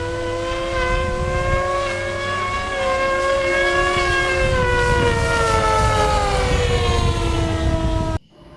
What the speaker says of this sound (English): a little bit of rubbing on either one of the sirens, and you hear them slowing down a little bit